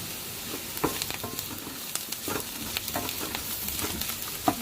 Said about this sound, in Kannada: 3-4 ನಿಮಿಷ ಫ್ರೈ ಮಾಡ್ಕೋಬೇಕು. ಆವಾಗ ಈರುಳ್ಳಿ ಚೆನ್ನಾಗಾಗುತ್ತೆ.